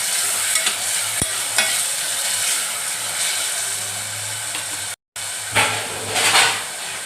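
A spoon stirs tomato sev curry cooking in a pan, with a steady close sizzle and hiss under scraping strokes and a sharp clink near the start, continuous apart from a brief cut near the end.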